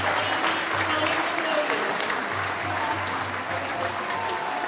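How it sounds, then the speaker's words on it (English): A rugby crowd at a women's Premiership match between Exeter Chiefs and Saracens applauds two props leaving the pitch, sustained distant clapping from the stands over a steady low hum. "Big round of applause for our 2 props coming off there."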